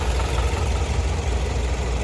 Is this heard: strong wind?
no